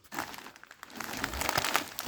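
Plastic feed bag for carp and crucian carp crinkles and rustles as it is handled up close, a continuous crackling that builds louder toward the end.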